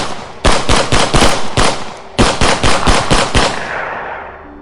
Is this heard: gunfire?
yes